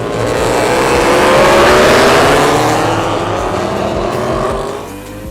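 Race cars speeding past on a race track, a loud roaring engine wash that builds and fades as they go by, close and continuous, with no talk.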